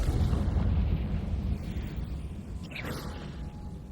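A Bombarda spell detonates in Hogwarts Legacy as a loud, low, rumbling blast that fills the opening and slowly fades, with a brief whooshing burst near the end over the lingering rumble.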